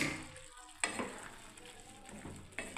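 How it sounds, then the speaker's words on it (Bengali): A pan of lentil dal cooked with peas and coriander leaves is stirred after the heat is switched off, giving faint scraping and soft clattering strokes with a quiet background hiss. "এবার আমি নেড়ে দিচ্ছি ভালোভাবে।"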